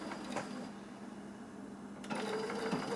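A sewing machine whirs steadily at close range, its motor humming with a faint rhythmic stitching clatter that picks up near the end.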